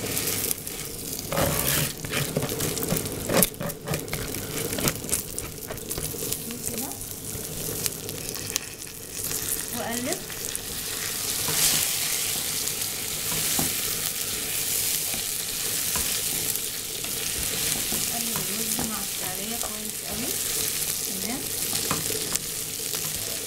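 Rice tipped into a pan of hot oil and stirred, giving a constant close sizzle with frequent scraping and stirring clatter throughout, and no voices.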